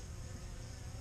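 A bee in winter flies off from a beehive on a freezing day, giving a steady close buzzing drone that holds at an even loudness for about a second with no talking.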